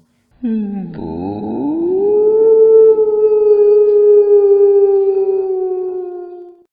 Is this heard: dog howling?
yes